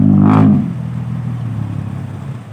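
The diesel engine of a tractor-dozer drones at low pitch as it pushes earth, with a louder revving burst at the start that settles into a steady rumbling hum.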